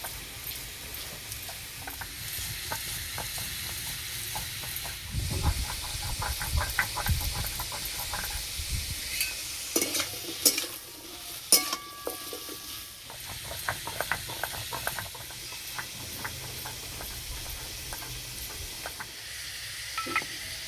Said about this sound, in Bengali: শসা ভাজা হয়ে গেছে